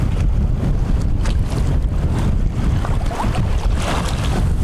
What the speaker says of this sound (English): heavy winds that picked up here